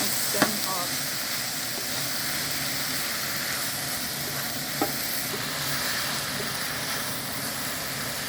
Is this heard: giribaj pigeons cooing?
no